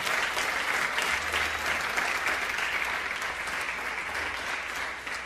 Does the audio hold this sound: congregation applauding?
yes